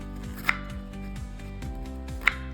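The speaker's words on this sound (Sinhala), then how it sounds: "මුලින්ම කෙසෙල් මුව ටික හීනියට කපා ගන්න." A knife slices banana blossom thinly on a board, soft rhythmic cutting strokes with two sharper taps against the surface, close and clear with no talking.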